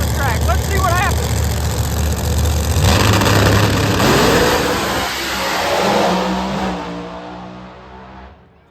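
Outlaw Pro Mod drag cars at London Dragway, a loud engine roar that builds and surges as they launch down the track, with a commentator talking over it before the noise fades away.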